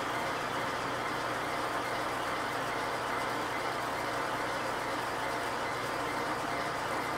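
Logan 11-inch by 36-inch metal lathe turning down a diameter under power feed with a carbide cutter, a steady broadband machining hum and whir running unbroken throughout at moderate level, with no talking.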